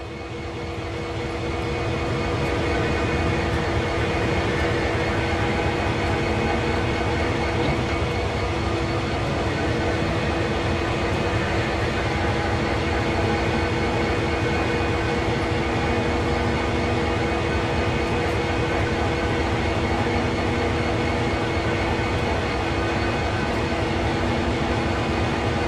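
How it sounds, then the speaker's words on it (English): A CSX heavy-haul locomotive rotates on a railway turntable in Train Sim World, producing a steady, loud mechanical drone with a low engine rumble and faint tonal whine that holds unchanged for the full length. "Using the rotation control, turn the table and locomotive to the indicated track."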